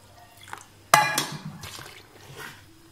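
Water is poured into a homemade lemon-peel dish wash mixture with a shampoo base, starting as a sudden splashing gush that settles into softer trickling and dripping, close by with no talk.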